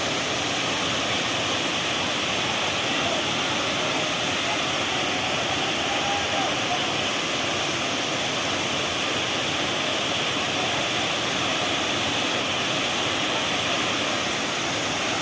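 Rushing water roars steadily at the Savdav waterfall in Kankavli, Konkan: a dense, unbroken wash of sound, moderately loud and constant, with no breaks or distinct events.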